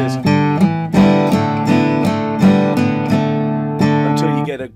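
Acoustic guitar notes plucked with uneven right-hand timing, a steady run of strummed chords whose attacks land irregularly, fairly loud and close with no talking over it.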